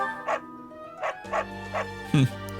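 Short dog barks and yips from a beagle-like puppy in the video game Fire Emblem: Three Houses, five quick evenly spaced yaps over a steady music bed, the last one louder and lower.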